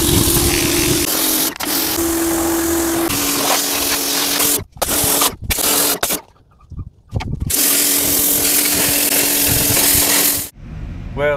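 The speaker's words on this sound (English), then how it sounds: "We're gonna hit it with this power washer." Pressure washer spraying under a CAT C-13 truck engine, a loud steady broadband hiss that cuts out in several short bursts around the middle before resuming strongly, close and alone with no talk.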